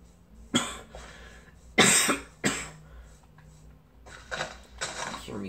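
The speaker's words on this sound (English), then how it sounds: "You can hear me coughing in the background because I caught allergies." Several sharp, close coughs from someone with allergies come in bursts, separated by quiet pauses with faint background noise.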